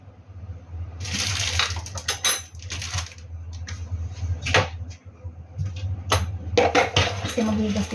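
Dishes being washed by hand under running water, with plates, pots and cutlery clinking and knocking in irregular bursts close by over a steady flow of water.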